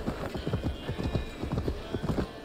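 Horse hooves clip-clop in a steady, rapid rhythm during a ride in the game Assassin's Creed Valhalla on PS5, the repeated thuds close and even throughout.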